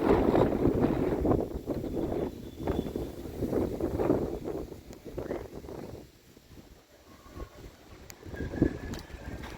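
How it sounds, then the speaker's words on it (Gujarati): Strong wind gusts buffet the microphone outdoors near a home, a loud rumbling roar that swells and fades in waves, easing off toward the end. "કેટલો બધો પવન આવે."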